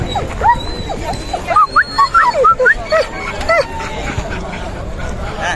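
Dogs at a dog market in Fergana bark, yip and whimper in a quick, uneven run of close, sharp calls, with a murmur of people in the background.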